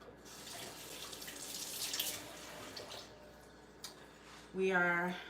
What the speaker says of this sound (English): I wash my hands and then I wet it